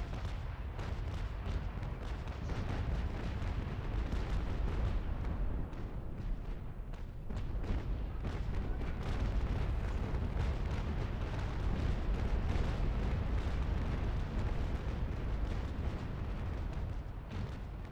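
Ship cannon fire in the age-of-sail naval video game Naval Action, a loud and continuous rolling barrage of heavy booms that stacks into a dense rumble, with a brief lull partway through before the broadside resumes.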